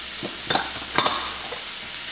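Vegetables in a pan with paprika, Mexican oregano, allspice, coriander and cumin being stirred in, giving a few soft scraping strokes over a faint sizzle, with no talking.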